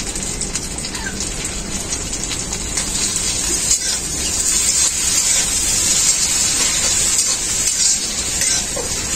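Tomatoes added to onions frying in oil left from frying tangra fish, giving a close, steady hiss and crackle that swells partway through, with faint stirring and no voices.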